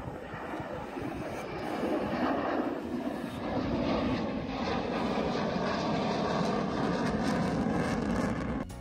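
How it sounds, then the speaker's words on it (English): A Saab 37 Viggen jet roars past low overhead during a wing-wave pass, a loud, steady, broadband engine rumble and whoosh that holds near full strength throughout before easing slightly at the end. "This Saab 37 performing the so-called wing wave."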